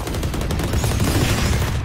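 Gunfire in the Valorant shooter game, a dense rapid burst of shots filling the short stretch at steady loudness, with no talk over it.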